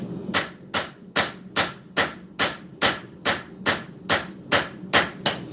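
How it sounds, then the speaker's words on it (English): A 5-pound hammer pounds hot steel while a sword is forged, about a dozen sharp metallic blows in a steady, even rhythm, loud and close with no talking. "Especially when you're using a 5-pound hammer."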